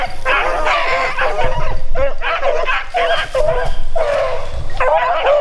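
A pack of beagles bays and yips in repeated, excited bursts while chasing a swamp rabbit through Arkansas woods, loud and close, with brief gaps between volleys.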